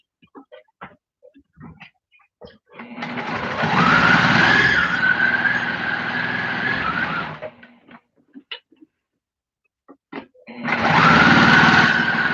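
A sewing machine stitches a strap for a Christmas present in two long, steady runs of whirring motor drone with a short pause between them, framed by small clicks and handling noises and no talk.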